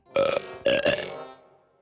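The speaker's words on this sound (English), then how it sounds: "Big Burp Monster only speaks in burps" Two loud, throaty cartoon burps in quick succession, the second longer and trailing off, close up with nothing else around them.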